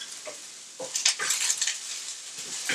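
Onion moved around in a hot pan, giving a soft steady sizzle with light scraping and clinking of a utensil against the pan, close and alone with no talk.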